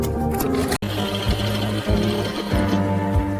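A walking-foot sewing machine stitches horse leather in a factory, running as a loud, steady mechanical hum with rhythmic needle thumps, one brief cut-out, then continuing without talk.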